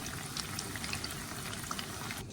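Steady, crackling sizzle of dough frying in hot oil, a dense bubbling hiss throughout with small pops, no voices.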